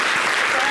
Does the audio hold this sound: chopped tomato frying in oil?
no